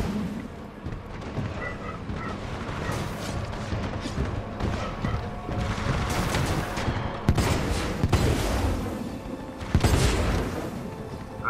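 Sustained gunfire in the video game Titanfall 2, a dense, loud barrage of shots with booming impacts and sharp bursts that continue without pause.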